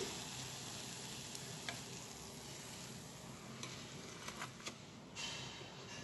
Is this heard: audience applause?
no